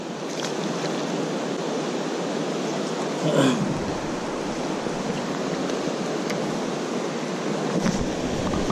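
Rushing water of river rapids on a Finnish fishing trip, a steady broadband roar that continues unbroken from start to finish, with a brief splash or knock partway through.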